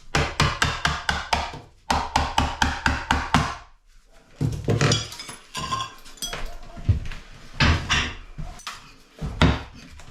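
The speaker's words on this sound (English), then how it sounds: "just hitting with a hammer" A hammer hitting and knocking ceramic tiles off a bathroom wall during a refurb, with a rapid run of sharp, loud strikes followed by irregular knocks, clinks and crumbling debris.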